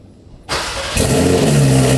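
After a brief quiet, a car engine cranks and catches, then settles into a loud, close idle with a deep rumble.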